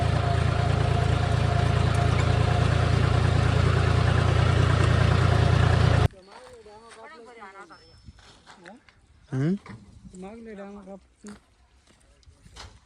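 A farm tractor's engine runs loud and steady for several seconds, then drops away abruptly to quieter background where someone speaks.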